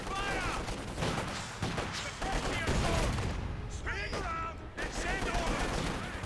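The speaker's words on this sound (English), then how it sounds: "grenades going off" A battle in the Company of Heroes 2 strategy game, with grenades going off amid dense, continuous bursts of gunfire and blasts, loud and busy throughout.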